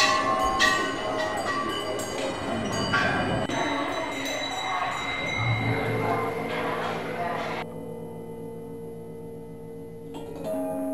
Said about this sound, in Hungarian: A hegy tetejére érve kis harangok sokasága várja a látogatót